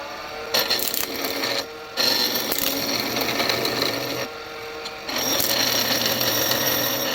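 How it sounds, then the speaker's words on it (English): A skew chisel cuts a piece of rock maple spinning on a wood lathe, making loud, rough, scraping bursts broken by short pauses where the tool lifts off. "We're going to turn this piece of rock maple round with the skew."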